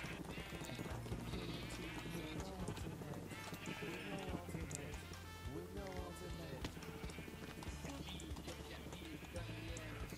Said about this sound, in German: Einmal kurz alle Schafe durchfüttern.